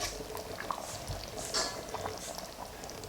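Curry chicken simmering in a covered pot, a low continuous bubbling and soft liquid burble with occasional small pops, close and fairly quiet.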